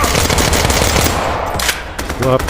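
A gun firing on its own in the Tactical Assault VR police shooter game: a loud, close stream of rapid automatic shots that keeps going for a couple of seconds.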